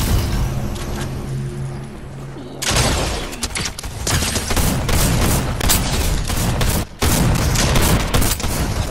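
Video-game gunfire aimed at the player, with dense, loud rapid bursts of shots and booms that start abruptly partway through and continue in quick volleys.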